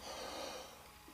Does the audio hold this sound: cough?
yes